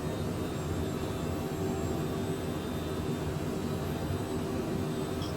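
Twin jet engines of a Cessna Citation Mustang (C510) at climb power in Microsoft Flight Simulator 2020, a steady, loud broadband roar with a low rumble and a faint high whine holding level throughout, with no speech.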